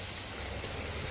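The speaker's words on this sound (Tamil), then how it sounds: "இப்போ இந்த தண்ணி ஊற்றிக்கலாம்." Tamarind water pours into a simmering fish curry as a soft, continuous rushing splash, fairly faint and steady throughout, with no speech over it.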